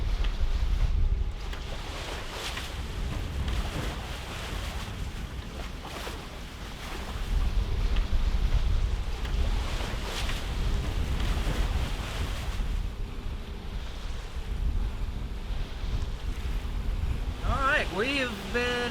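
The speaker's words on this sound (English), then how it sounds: "We've been motoring now for about 2 hours after the sun is set." A sailboat motors under engine at night, with a low continuous engine rumble beneath wind noise and water wash, fairly faint and steady, while a person speaks at times over it.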